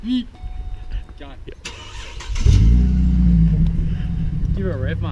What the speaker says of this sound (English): Give it a rev, mate.